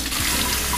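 Raw mutton pieces being rinsed under a running kitchen tap, a steady loud gush of water splashing in a sink, close and continuous with no voices.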